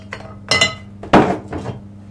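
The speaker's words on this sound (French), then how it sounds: "On va y passer le couvercle." A lid set onto a pot of fish and shellfish soup, a few close metallic clinks and clatters building to one louder ringing clang, then a softer final tap.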